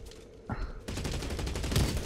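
Rapid gunfire in the video game Blacklight Retribution, a sharp burst that breaks into a dense continuous rattle of shots, loud and close in the game mix.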